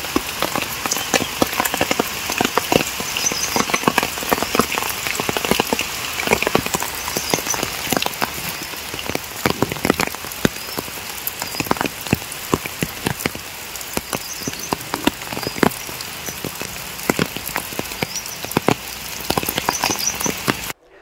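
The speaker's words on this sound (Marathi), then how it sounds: "सप्टेंबरच्या दुसऱ्या आठवड्यापासून पावसाने दमदार हजेरी लावली असल्याने" Heavy September rain pours down steadily and close, with dense patter and sharp individual drops striking surfaces throughout, no speech.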